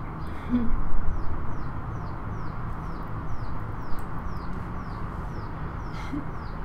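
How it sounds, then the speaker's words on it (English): A bird outdoors repeats a short, clear call at a steady rhythm, fairly faint against a constant background hum, with a brief low voice at the start. "Can you hear that bird?"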